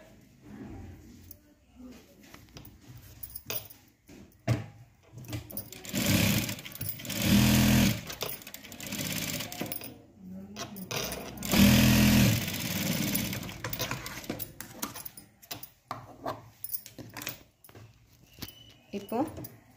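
An electric sewing machine stitches the edge of a blouse in two short whirring runs of a few seconds each, close and fairly loud. A voice talks between and around the bursts.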